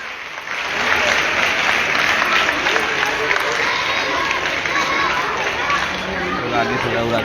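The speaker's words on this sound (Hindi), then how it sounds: "आप लोग ताली बजाते रहे" Students clapping loudly and continuously at a Republic Day speech by an MLA at a girls' inter college, a dense, sustained wall of applause with crowd noise and chatter underneath.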